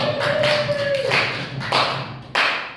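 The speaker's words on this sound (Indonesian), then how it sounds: "Beri aplaus dong sama Pak Faisal" During a classroom presentation, an audience gives a presenter a short round of sparse applause: a few separate bursts of hand claps at irregular intervals, close and fairly loud, with a steady tone underneath.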